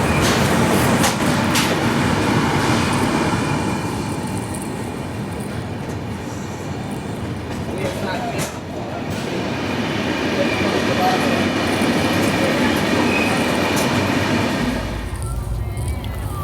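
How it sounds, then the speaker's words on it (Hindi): Hazur Sahib Nanded–Santragachi SF Express pulling out of Jharsuguda Junction, heard from inside a coach: a steady rumble of the moving train with wheel and carriage noise continuing throughout, under faint background voices. "हमारे ट्रेन का डिपार्चर हो चुका है झारसुगुड़ा जंक्शन से"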